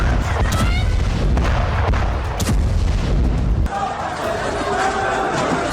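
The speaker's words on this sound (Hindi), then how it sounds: "तभी जबरदस्त बमबारी की गई।" Heavy bombardment explosions at a camp outside Al-Shifa hospital in news footage: dense, loud booming blasts and roaring rumble fill the first part, then a different noisy scene with clattering and faint voices follows.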